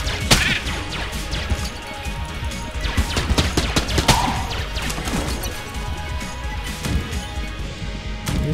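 Rapid gunfire from the video game Enter the Gungeon rattles nonstop in dense bursts of overlapping shots and impacts, loud and close throughout with no pause.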